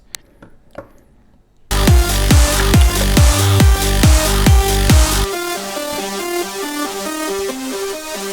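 Layered chorus synth lead combining a detuned, very wide voice with an almost guitar-like one, playing a loud, dense rhythmic melody over pulsing bass, after a few soft plucked notes at the start.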